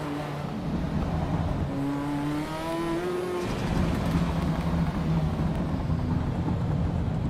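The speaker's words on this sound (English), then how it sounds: "that sounds good when you change gear." Race car in Assetto Corsa Evo at the Glen winding up in pitch, then a sharp gear change that drops the tone into a harsher, louder engine roar continuing at speed.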